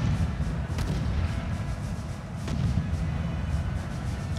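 Artillery fire in a Napoleonic battle video game, France against Russia in northern Italy, rumbling as a dense low roar with a few sharper distant booms breaking through, steady and continuous throughout.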